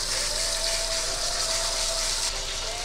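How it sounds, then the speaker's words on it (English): Salt and pepper chuck roast searing in hot oil, a steady loud hiss and crackle of sizzling fat that runs unbroken, close up, with no talking. "we're just gonna sear both sides, get some brown"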